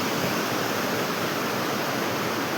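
A river flows behind a hotel on the mountain route to Kedarnath, a steady, loud rushing roar of water that fills the whole stretch without a break or any voices.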